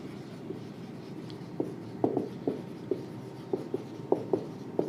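Pen writing notes during a biology lesson, with a series of soft scratchy strokes and taps in an irregular rhythm, close and quiet against a low room hum.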